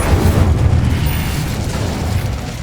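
An Incendio fire spell bursts in Hogwarts Legacy on PS5, a loud, deep, rumbling whoosh of flame that swells at once and rolls on steadily, heavy in the low end, with no voices.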